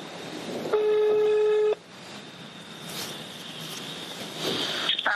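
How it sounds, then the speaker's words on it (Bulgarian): A telephone emits a loud steady tone lasting about a second, followed by a faint background hum and a few short beeps near the end as the call goes through. "Трябва да звъна на Ани."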